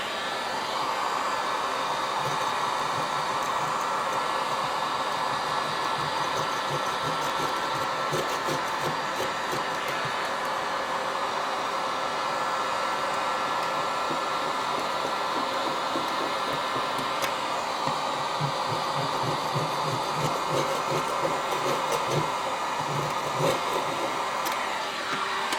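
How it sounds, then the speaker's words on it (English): A heat gun blows a steady, continuous roar while softening a glued-on tile on a drywall wall, running close and loud without a break for the whole stretch. "Let the heat gun do the work."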